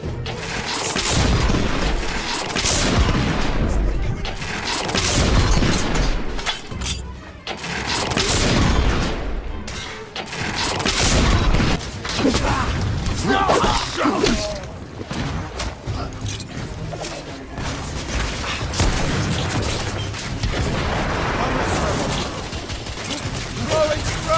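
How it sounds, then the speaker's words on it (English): Heavy artillery fire in a brutal combat video game around Westminster Bridge: continuous loud booms and rolling explosions with rapid gunfire bursts, dense and chaotic throughout, with voices shouting beneath the barrage. "We are witnessing heavy artillery fire at the moment."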